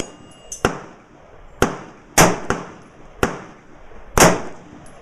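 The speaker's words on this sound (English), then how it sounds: "the first gun she's going to shoot is the super awesome AR-15" Sharp, loud gunshots from an AR-15 rifle, six cracks at irregular intervals about a second apart, each ringing briefly in the air, with no talking between them.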